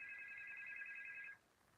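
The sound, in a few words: telephone ringing with an incoming call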